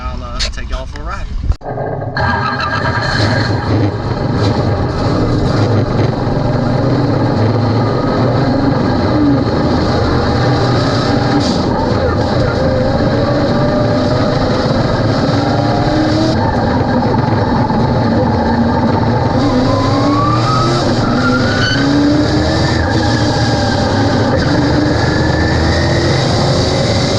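A race car runs out on the track, a loud, sustained engine roar with rising and falling pitch as it accelerates and shifts, heard close and continuously for almost the whole stretch after a brief quieter start.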